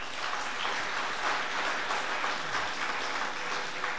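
A church congregation gathered at a worship service claps continuously, a dense, even wash of applause holding at steady loudness with no clear pauses.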